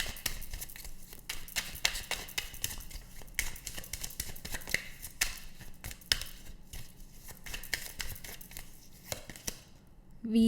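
Tarot cards drawn and shuffled from a pile make near, continuous flicking and rustling card noises with quick crisp slaps. There is no talk.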